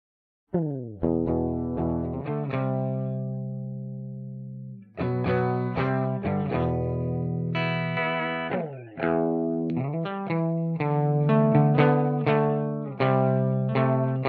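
An electric guitar through a PRS V9 amp simulator plugin with a processed, slightly driven tone plays sustained chords and single notes in phrases, ringing out with decay between strums.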